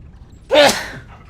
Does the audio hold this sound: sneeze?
yes